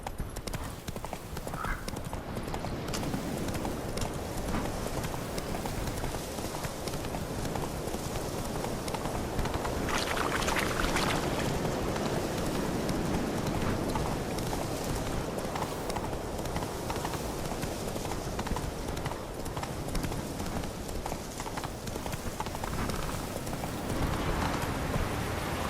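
Galloping horse in The Witcher 3: Wild Hunt, a long, continuous drumming of close hooves over a thick wash of ambient noise, with occasional speech.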